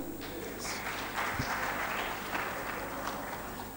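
Audience applause at a management and HRD summit in Lahore, a sustained, fairly soft wash of clapping from a seated crowd in a hall, with no one speaking over it.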